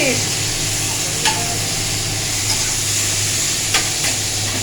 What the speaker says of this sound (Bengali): একটু নাড়াচাড়া করে নিতে হবে।